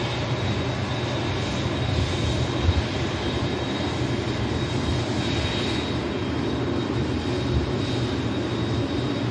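An Emirates Airbus A380 Super Jumbo at Manchester Airport gives off a steady, fairly loud jet engine roar and high whine, unbroken and continuous.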